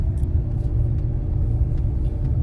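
A car with a 2.2 litre diesel engine climbs a ghat road near Lonavala, heard from inside as a steady, loud low engine drone and road rumble without pause.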